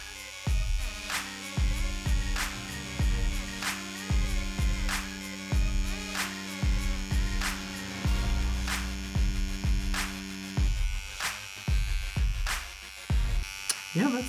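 A CNC X-1 rotary tattoo machine runs near and steady, its motor buzzing continuously at around 9 volts while needles are set further out, with repeated rhythmic low thumps beneath the hum.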